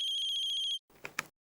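A mobile phone ringtone plays as a loud, steady repeating electronic tone pattern, then cuts off abruptly, followed by brief faint rustling and a couple of soft clicks.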